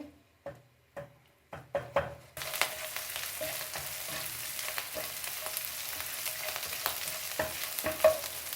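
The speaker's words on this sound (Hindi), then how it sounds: "इसे हल्का सा भूनेंगे।" Ginger paste lightly frying in a pan for a stovetop chicken pizza, a few sharp spoon taps against the pan first, then a steady close sizzle runs on with scraping stirs and clinks.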